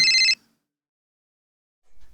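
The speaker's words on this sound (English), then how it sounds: "Her phone rang while she was out walking the dog." A phone rings once with a short, bright electronic trill, close and clear, then cuts off into silence, with a faint low rumble near the end.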